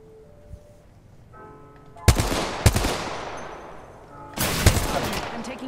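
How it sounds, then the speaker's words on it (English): Gunfire in the Apex Legends video game, with several sharp, loud shots in separate bursts over quieter in-game ambience and fading echoes. "I'm taking shots."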